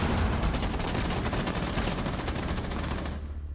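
Rapid automatic gunfire in the Rainbow Six Siege video game rattles steadily for about three seconds at close range and then cuts off.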